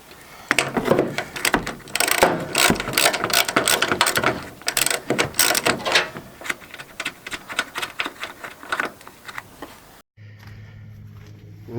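Socket ratchet wrench clicking in quick, uneven bursts of sharp metallic ticks, close and loud, pausing briefly before ending in a low hum.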